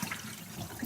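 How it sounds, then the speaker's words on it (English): Cold water rinsing a fox hide after soaking in saltwater brine, a brief continuous splashing wash of running water. "So now I'm just going to rinse it with some cold"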